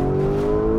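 A 2019 Lamborghini Urus with a twin-turbo V8 engine revs close by, a loud, sustained harmonic roar that holds steady through a brief burst, with no talking.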